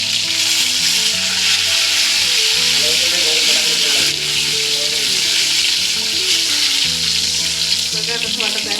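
Cumin, curry leaves, ginger and bay leaf fry in hot oil for a spinach, pea and paneer dish, giving a loud, continuous close sizzle and crackle with constant spitting, and no one talking.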